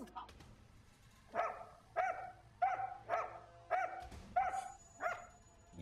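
A guard dog barks in a steady series of about eight sharp, evenly spaced barks, loud and close, after some murmured talk at the start.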